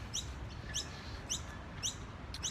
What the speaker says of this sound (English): the birds are singing in the background